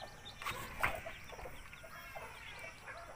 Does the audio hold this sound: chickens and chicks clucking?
yes